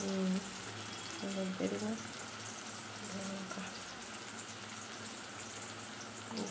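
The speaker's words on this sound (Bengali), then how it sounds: "পটল ভাজা হচ্ছে" Pointed gourd (potol) frying in a pan, a steady broadband sizzle running throughout, with a voice speaking briefly over it at the start and at intervals.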